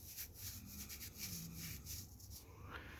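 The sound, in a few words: coarse doll reroot hair being rubbed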